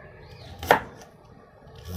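A knife cuts through an apple with one sharp chop midway through an otherwise quiet stretch, close and clear.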